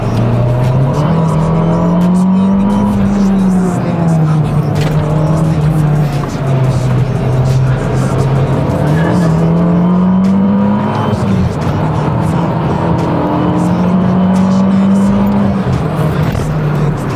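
Abarth with stage 3 tune and automatic gearbox, warm tyres, revving hard while driving; a loud, continuous engine note rises and falls through repeated throttle swells and shifts, close and dominant with no talking.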